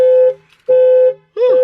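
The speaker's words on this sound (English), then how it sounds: "Stupid alarm." A car alarm blares in three loud, steady tonal blasts separated by short gaps, the last one warbling and sweeping in pitch, close by with no talk over it.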